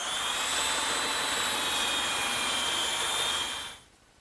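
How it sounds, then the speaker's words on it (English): A small belt sander grinds down protruding wooden dowel pins on a kitchen work table. The motor gives a loud, steady high whine for about three and a half seconds, then cuts off abruptly and winds down. "I thought I'd sand down these dowel pins. They're sticking out just a little bit. And to do that, I'm just going to use my little belt sander."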